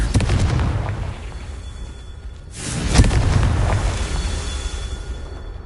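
In the Hogwarts Legacy video game, a Confringo blasting spell explodes with a loud boom partway through, set against a dense, rumbling background of game noise and effects.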